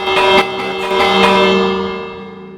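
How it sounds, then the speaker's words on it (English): A bell in the Minecraft video game rings with a bright metallic clang, struck twice in quick succession and left to ring out and fade. "And we got a bell."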